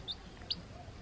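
Small farm chicks peep in two quick, high, faint chirps, spaced apart over a quiet outdoor background.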